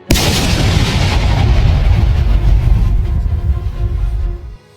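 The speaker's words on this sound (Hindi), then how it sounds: "और फिर एक भयानक धमाका।" A crashing Tejas fighter jet explodes in a loud, close, sustained roaring blast with rumbling low boom and crackle, continuing for several seconds before cutting off abruptly.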